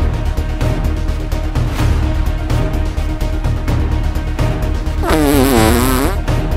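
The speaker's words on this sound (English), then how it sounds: "use your fart teleportation powers" A loud cartoonish fart sound effect in a Minecraft-style comedy: a long rumbling buzz, then a wobbling, pitch-bending squeal near the end, up close and alone.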